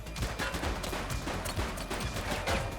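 Gunfire from a shooting suspect in The Precinct video game, a dense run of rapid sharp shots and impacts with game noise, loud and continuous for a few seconds.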